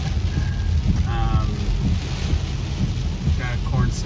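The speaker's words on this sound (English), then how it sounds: "It's a torrential downpour" Torrential rain pours down steadily during a thunderstorm, with a continuous loud hiss of heavy drops and low rumbling throughout, joined by gusts of wind and a faint voice in the background.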